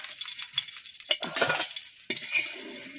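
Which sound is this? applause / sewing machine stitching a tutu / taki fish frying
taki fish frying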